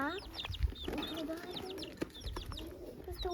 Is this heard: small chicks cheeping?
yes